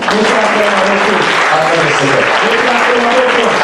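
A church congregation breaks into loud, sustained applause, dense and continuous throughout, with a voice heard beneath the clapping.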